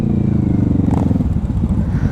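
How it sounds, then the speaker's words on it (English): A motorcycle engine rumbles close and loud at a motorcycle charity ride among tooting horns, its pitch rising and falling slightly as the throttle is blipped, with a rapid pulsing beat throughout. "some people are revving their engines"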